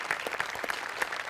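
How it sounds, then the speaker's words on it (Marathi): A studio audience briefly claps for two comedy sketch performers, a short burst of scattered, moderately loud claps. "डांगे आणि सम्या दोघांसाठी एकदा टाळ्या"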